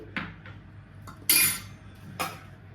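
A spoon clinking against dishes while salt is added for amla pickle, with four short bright metallic clinks spaced irregularly and the third loudest, close up and without talk.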